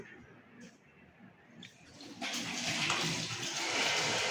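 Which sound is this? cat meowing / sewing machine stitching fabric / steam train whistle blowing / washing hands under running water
washing hands under running water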